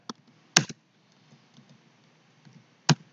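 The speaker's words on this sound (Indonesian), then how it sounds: "saya harus ngetik lagi" A few sharp keystrokes on a computer keyboard while someone codes a Python string example. The clicks come in short isolated bursts over quiet, with a longer gap before the last one.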